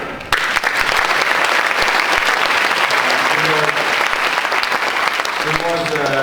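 An audience bursts into loud, sustained applause for a speaker at an evening event, a dense wash of clapping that starts abruptly and holds steady, with a voice coming in faintly near the end.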